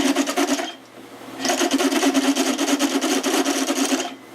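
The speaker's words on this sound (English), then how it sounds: "I've never tried one of these stepper bits on anything this thick before" A step drill bit bites into thick metal in two long rasping runs separated by a short pause, a harsh grinding scrape that is close and loud with no talking.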